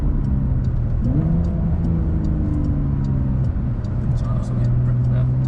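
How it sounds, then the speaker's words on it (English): Porsche 992 Carrera 4S under launch control, a loud sustained engine roar with pitch rising as it accelerates, heard from inside the car with a voice speaking over it. "let's try launch control"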